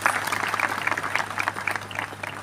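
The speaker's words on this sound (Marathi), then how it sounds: "सर्वांनी जोरदार टाळ्या वाजवून स्वागत करावं" An audience at a Diwali morning music program claps steadily to welcome people onto the stage, a dense, continuous round of applause from many hands throughout.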